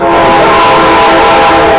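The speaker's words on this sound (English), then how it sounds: "sorry about the train" A passing train roars loudly and continuously, a steady droning rumble with sustained tonal hum that masks everything else for the whole stretch.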